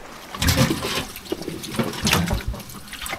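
Tap water gushes into a 20-liter container at a neighbor's outdoor faucet in a coastal village, a close, loud, surging pour with irregular splashy bursts.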